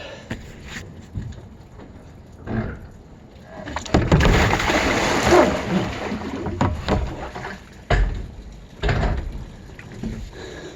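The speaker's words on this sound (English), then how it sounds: "Here comes the big flush." A big flush of water draining from a tank filled to about ten gallons makes a loud rushing gush that swells, surges and tapers, with knocks and gurgles, close and alone without talk.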